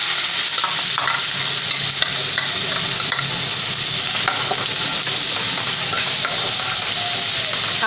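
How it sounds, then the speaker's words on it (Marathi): Onion sautéing in a pan for egg masala, a steady broadband sizzle and hiss of frying with occasional stirring scrapes, close and continuous throughout without speech. "हा कांदा आपल्याला मऊ गुलाबी होईपर्यंत परतून घ्यायचा आहे।"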